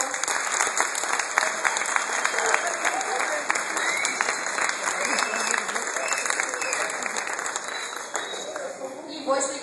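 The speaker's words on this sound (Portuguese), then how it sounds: "Uma salva de palmas," A convention crowd applauds a guest, the voice actor Wendel Bezerra, brought on stage, with continuous clapping and scattered cheers over steady background hum, a voice coming in right at the end.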